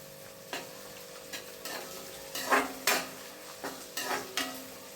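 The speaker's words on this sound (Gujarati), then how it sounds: "હવે આપણે એમાં આદુ લસણની આ પેસ્ટ જે બનાવી હતી એ નાખી દઈ, એને હલાવીએ બરાબર." Ginger-garlic paste sizzles in a hot pan with green chillies, stirred in a series of scraping strokes that rise in bursts over a steady low frying hiss, close and fairly quiet, with no talk.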